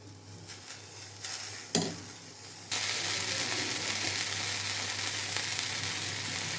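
Flatbread fries in oil in a kadai, with a few faint clinks and a sharp burst before the sizzle swells into a loud, steady close crackling hiss, without speech.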